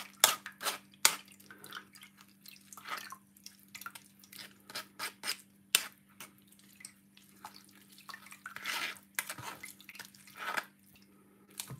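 Carrot and pomegranate seed juice drips through a strainer, a steady run of small irregular drips and trickles close by, with a faint low hum underneath and no talking.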